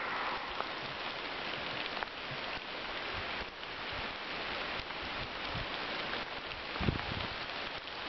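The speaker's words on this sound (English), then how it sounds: "it is raining." Steady rain pours down continuously, a dense hiss with occasional louder drips and patters, with no voices.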